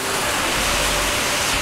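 Floodwater rushing along a flooded street: a loud, steady broadband roar of moving water filling the short stretch with no voices over it.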